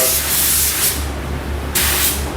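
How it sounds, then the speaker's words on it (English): A spray gun hisses out toner onto wooden door faces in a finishing shop, loud and close in two long continuous bursts separated by a brief pause. "you can spray over the whole thing if you want"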